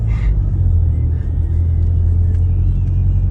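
A car drives along a narrow, single-lane mountain road in San Marino, its engine a steady low rumble with road noise throughout, close and continuous, with no talk.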